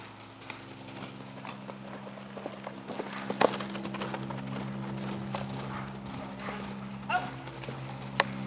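A horse canters in an arena with steady three-beat hoofbeats, moderately close, over a constant low hum and background noise, with occasional sharper thuds.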